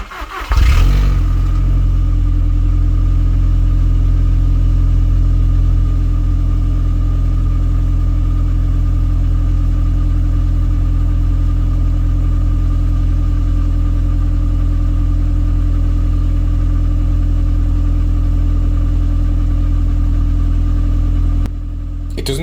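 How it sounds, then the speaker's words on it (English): Original factory exhaust on a SEAT Leon Cupra R 225, worn and due for replacement, idling steadily after a brief start-up rev, with a deep, even rumble held at close range for about twenty seconds before cutting off. "let's do a little sound check to see what the original exhaust sounds like"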